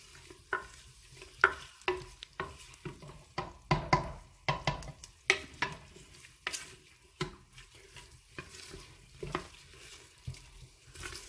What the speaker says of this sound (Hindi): अब हम प्याज को भी अच्छी तरह सुनहरा होने तक पकाएंगे।